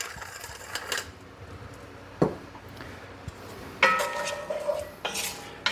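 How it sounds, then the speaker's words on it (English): Carrots, celery and other vegetables are stirred in a pot, with sharp clanks and scrapes of a utensil against the metal at irregular moments over a soft background hiss, and no one talking. "I'm going to saute these until they start getting soft."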